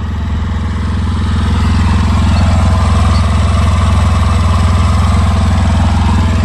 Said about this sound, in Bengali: গাড়ির ইঞ্জিনের সাউন্ডটা কত সুন্দর, ঠিক আছে, ইঞ্জিনের সাউন্ড দেখেন